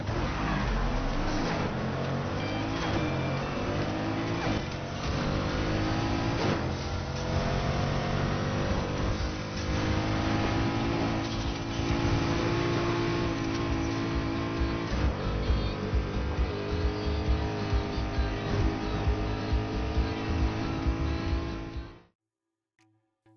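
A car races in the video game Need for Speed Heat, its engine droning and revving steadily with shifting pitch, loud and continuous throughout before stopping abruptly.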